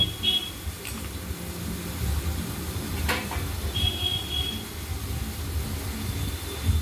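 Okra frying lightly in oil, a steady low sizzle with a few faint stirring clinks and scrapes, continuous and moderately close.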